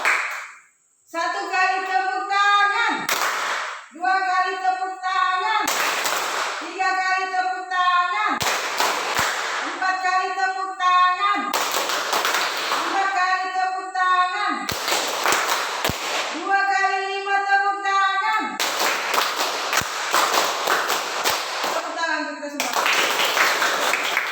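A classroom of children clapping their hands in repeated bursts, loud and close, separated by short pauses, with a teacher's voice speaking between the rounds.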